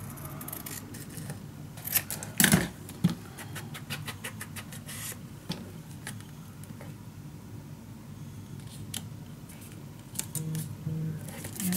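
Scissors cutting through paper pages, heard as a few snips and crisp crunching cuts near the start, close by, then quieter rustling and handling over a low steady hum.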